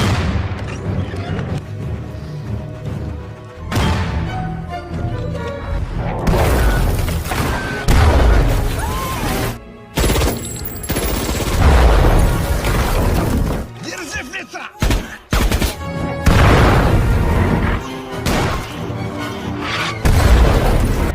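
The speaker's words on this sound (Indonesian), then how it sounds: "tanpa berlama-lama kontak senjata pun terjadi" Battle scene with gunfire and explosions during a firefight between Soviet and German troops around a house: loud repeated booms and crashes, dense and continuous, with sharp impacts mixed under a busy soundtrack.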